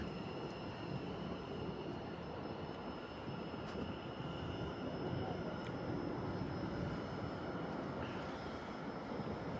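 A South Western Railway Class 701 Arterio unit departs Clapham Junction for Weybridge, a fairly quiet, steady rumble with a faint high electric whine running throughout.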